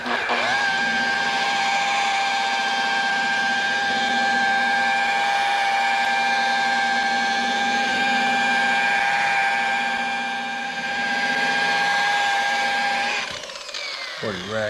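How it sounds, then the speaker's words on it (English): A polishing buffer with a foam pad and Meguiar's Mirror Glaze medium cut cleaner skims over dull car paint. It gives a loud, steady, high whine that runs almost unbroken, then winds down at the end. "we're just going to skim over this thing with a buffer"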